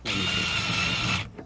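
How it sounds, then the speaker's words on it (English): A power drill bores a 1 inch guide hole for a foldable treat wall, giving one loud, steady whirring burst of about a second that cuts off sharply, with no talking. "I'm gonna drill that hole"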